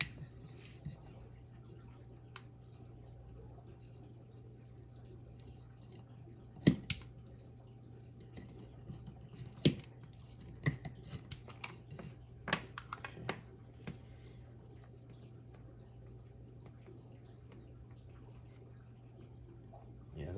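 A strip of material cut by hand with scissors, giving a run of small, close snips and clicks spread irregularly over a low steady hum, with no talking.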